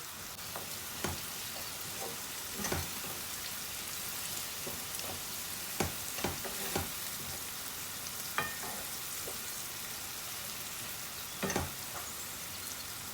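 Onions frying with turmeric in a pan for a chicken and green bean curry give a steady close sizzle, with a few sharp clinks and scrapes from a spoon scattered throughout.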